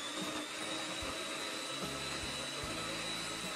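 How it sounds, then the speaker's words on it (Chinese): A handheld electric mixer runs on low speed through jujube cake batter made with brown sugar, a steady whirring drone with motor hum that holds close and even throughout. "我们可以利用打蛋器，先低档把所有的食材打匀"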